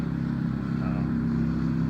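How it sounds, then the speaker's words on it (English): A steady, low engine drone of motorcycles on a road along the Natchez Trace, fairly distant and even, without any sharp revving. "You hear the motorcycles going down the road."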